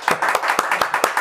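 An audience at a rap show claps in steady, brisk rhythm, a close and loud burst of applause with a faint voice beneath.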